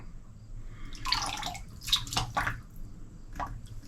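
A synthetic shaving brush is dipped into water and lifted out, giving soft wet squishes and dripping splashes close by, steady and unhurried, with no one speaking.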